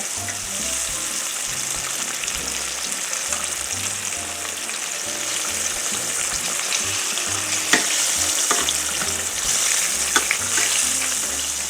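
Green tomato slices frying in hot oil, a steady, dense sizzle that runs the whole time with occasional louder pops and crackles, close and with no talking.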